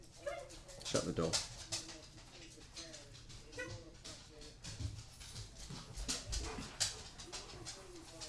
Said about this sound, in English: Noisy dogs. Noisy dogs all the time.